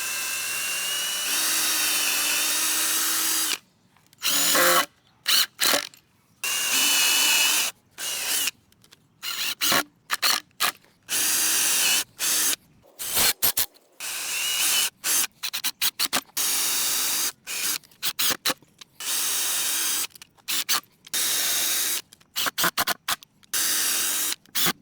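A power drill bores pilot holes and drives 2.5-inch number 8 screws into 2x4 boards for a firewood rack, whining in repeated short bursts separated by silent pauses.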